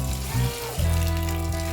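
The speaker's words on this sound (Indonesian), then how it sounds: "Oke, perawatan yang pertama adalah kita siram" Katuk and cincau plants being watered loosely in a farm plot, a steady rush and trickle of water with a low continuous tone underneath, close and fairly even throughout.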